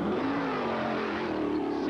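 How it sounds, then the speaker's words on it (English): A race car engine held at high revs during an Indianapolis 500 pit stop in 1997, a loud steady droning roar with a wavering pitch that continues throughout. "You can hear they're keeping the motor revved up."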